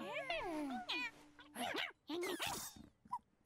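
A black cat in an anime meows in a high voice actor's performance, several stretched, wavering meows with sliding pitch in quick succession, close and clear, with a few brief rustling sounds between them.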